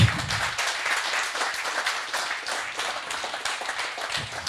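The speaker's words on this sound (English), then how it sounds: "Big applause for Tom Zidek." A crowd at a Swedish Tesla owners' meet applauds a presenter, steady dense clapping running throughout.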